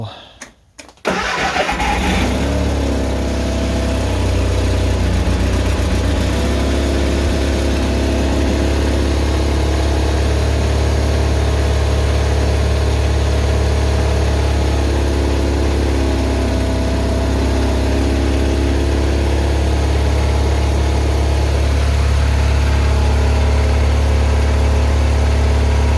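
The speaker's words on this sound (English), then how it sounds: "we're gonna start it up and run it for a little bit." A Deutz-Allis 1918 lawn tractor engine cranks briefly, catches and then runs at a steady, loud, close idle for the rest of the stretch without a pause.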